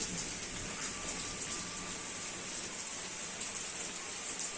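Steady rain falls in a continuous, even hiss with no break, an outdoor shower around a samovar tea setting, and no voices cut through it.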